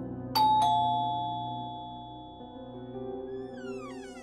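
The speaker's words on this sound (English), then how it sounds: "rings the doorbell of someone's apartment unit" Two bright chimes of a doorbell ring out close by, each tone lingering and fading slowly over a soft steady background hum.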